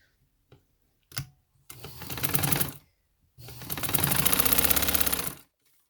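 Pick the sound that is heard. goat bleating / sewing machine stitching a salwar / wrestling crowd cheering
sewing machine stitching a salwar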